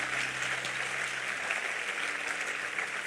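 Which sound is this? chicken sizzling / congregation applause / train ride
congregation applause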